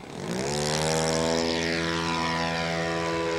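An RC model airplane engine roars loudly and steadily in flight, its buzzing whine climbing in pitch as it passes close overhead.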